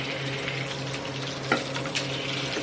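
Tikiya, kofta patties, fry in a pan with a soft continuous sizzle and a couple of brief clinks and bubbling pops, nearby and fairly quiet, with no talking.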